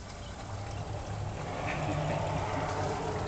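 Tap water runs steadily from a faucet in a home, a continuous broadband rush that holds even and fairly close for the whole stretch with no voices.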